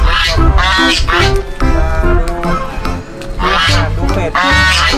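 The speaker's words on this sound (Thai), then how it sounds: "เป็ด" Ducks at a farm quack loudly and repeatedly in close, harsh bursts, a busy flock calling over one another with some voices mixed in.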